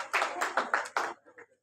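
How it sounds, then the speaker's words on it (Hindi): A few brief bursts of clapping by an audience at a school farewell ceremony for a retiring senior physical education teacher, close and fairly quiet, ending in a couple of scattered claps. "एक बार जोरदार तालियों से आप इनका अभिनंदन करेंगे"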